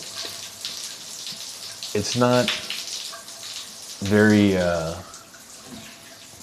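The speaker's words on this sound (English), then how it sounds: "your wand, which is a handheld. Yeah, at full power" A handheld shower wand in a hotel bathroom sprays at full power, a steady close rushing hiss of water running throughout while people talk over it.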